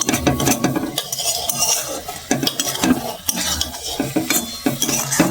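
Grated coconut being stirred with a utensil in a pan, steady scraping strokes with frequent clinks of metal against the pan under a faint sizzle, close and continuous throughout.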